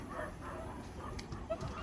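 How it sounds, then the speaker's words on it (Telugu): Dogs barking and yipping at a distance outdoors at night, a few faint scattered barks over a steady background murmur. "కుక్కలు అయితే వస్తున్నాయి"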